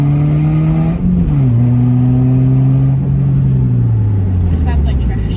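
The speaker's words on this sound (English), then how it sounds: "That's some gravel in my rotor, I'm sure." A Subaru Forester driving along with gravel caught in a brake rotor, giving a steady loud drone of road and engine noise with shifting tones, while a person talks over it throughout.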